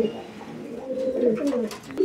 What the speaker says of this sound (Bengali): এখানে আরো এক জোড়া কবুতরের কালেকশন রয়েছে